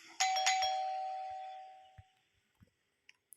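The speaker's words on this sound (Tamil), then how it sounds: "இது வந்து காலிங் பெல்லு." A doorbell inside a house in the Roblox game rings out a clear two-tone chime with a long ringing tail that fades over about two seconds, followed by a few faint soft knocks.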